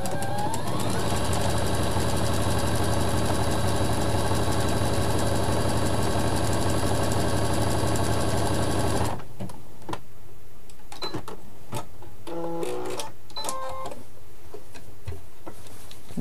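Sewing machine stitching one arm of a cross onto a multicolored fabric appliqué, a steady fast whirring buzz lasting several seconds that stops abruptly, followed by quiet clicks and fabric handling, no talk.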